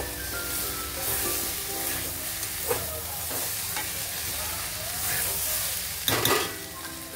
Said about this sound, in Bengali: দিয়ে আরেকটু আমি চালটা ভেজে নেব